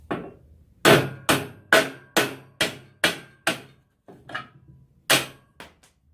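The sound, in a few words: hammer knocking metal slug out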